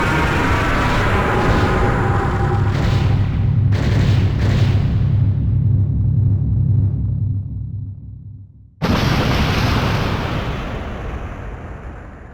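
Weapon fire and explosions from the Einhänder shooting game: heavy rumbling blasts roll and fade out, then a sharp burst breaks in and a fresh rush of crackling explosive noise follows.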